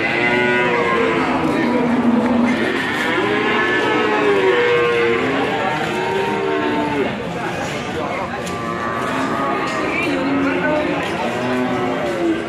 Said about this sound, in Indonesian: di depan teman-teman semua ada sapi super ini berjeniskan Simental Carolis